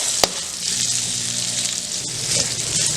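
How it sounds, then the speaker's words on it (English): Italian sausage frying in olive oil, a loud, dense, continuous sizzle heard up close, with one sharp tap near the start and faint clattering beneath, no voices. "we're gonna start cooking down our Italian sausage"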